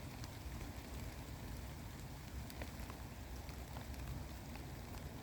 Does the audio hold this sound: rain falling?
yes